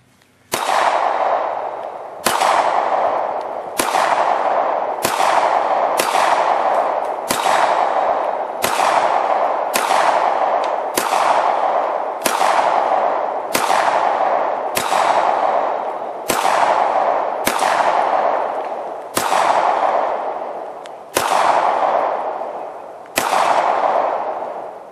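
Repeated gunshots ring off steel shooting targets on an outdoor range, about sixteen loud sharp cracks at irregular one-to-two-second intervals, each followed by a ringing metallic decay, with no talking.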